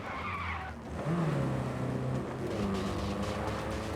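In Cyberpunk 2077, a car's tires squeal as it skids to a stop, a rising screech over a steady engine rumble that settles into a lower idle.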